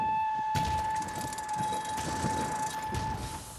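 A train rumbles close by with a sustained tonal whistle or horn running through it, under a continuous mechanical rattle that eases slightly near the end.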